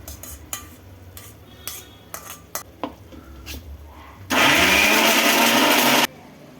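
Ground spices for a village-style mutton curry go through a mixie jar. A few clinks and taps come first, then the grinder roars loud and steady for about two seconds before cutting off.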